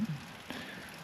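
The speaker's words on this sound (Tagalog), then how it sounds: "habang nagpapatila ng ulan" Steady rain falls outside a campervan during a stop in Northern Luzon, a soft continuous hiss with a brief patter burst midway and no voices.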